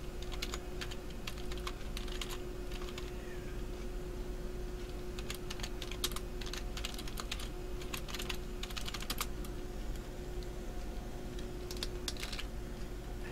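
Brisk typing on a computer keyboard comes in quick clusters of close, crisp key clicks, stopping briefly now and then over a faint steady hum, with no talking.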